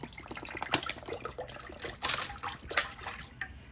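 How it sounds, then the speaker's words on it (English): Bottled water pours into a pot with gurgling splashes and uneven glugs for a few seconds, close and fairly quiet. "So 1 bottle water is 500 milliliters. So what I'm going to do is just add that in here."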